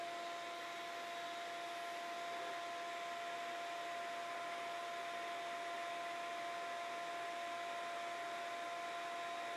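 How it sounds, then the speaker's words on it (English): A workshop dust collector runs steadily, a constant loud airy roar with a steady tonal whine and no change in level from start to finish. "Now let's hook up the dust collector, see where it's at."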